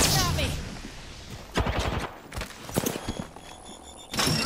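Bursts of gunfire in the battle royale game Apex Legends, with several short volleys and a rapid automatic burst near the end, separated by gaps and quieter thuds.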